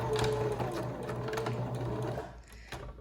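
Sewing machine running in short back stitches across a fabric mask, a close, fast mechanical whir that slows and then stops with a last few clicks near the end.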